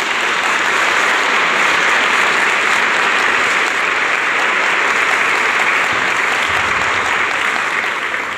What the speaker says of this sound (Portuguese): E eu quero que você aplaude o Santo Padre, o Papa.